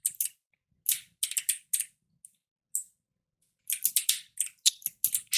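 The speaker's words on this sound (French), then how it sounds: "Alors, on appuie sur espace." Keys on a computer keyboard clatter close and crisp, including the space bar, in quick irregular bursts of clicks separated by short silences.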